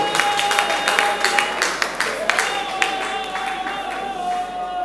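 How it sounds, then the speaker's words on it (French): A festival crowd at Tokanisa claps for a mother's diploma with steady, loud applause from many hands. Crowd noise and a sustained musical tone sit beneath the clapping. "Applaudissons pour le diplôme de Maman."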